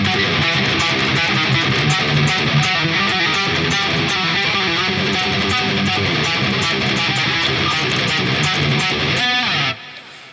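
Heavily distorted electric guitar plays a fast, dense hybrid-picked riff, a loud, continuous technical death metal flurry that cuts off abruptly near the end, with no talking over it.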